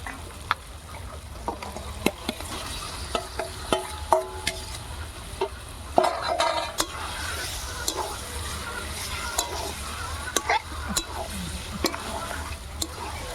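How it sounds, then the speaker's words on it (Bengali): Chicken pieces frying in a spiced masala with turmeric and salt, stirred steadily: a continuous sizzle with repeated scraping and clinking strokes of the spoon against the pan, close and fairly loud, with no talking. "মশলাটা ভালো করে কষানো হয়ে গেছে, এবার এর মধ্যে চিকেনগুলো দিয়ে দেবো"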